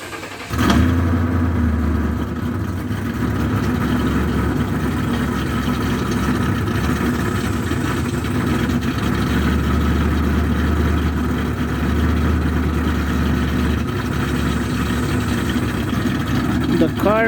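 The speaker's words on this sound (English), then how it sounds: "this is cold start video of the Crown Vic." A Ford Crown Victoria P71 with a Trick Flow top end, untuned, cold-starts and settles into a loud, rough, steady idle with a lumpy low rumble that runs for the whole stretch.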